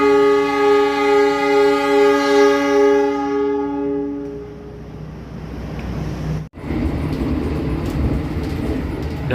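Train running on rails as it approaches Kebumen station in Indonesia, a loud horn-like tone fading into steady rumbling rail noise with a brief dropout.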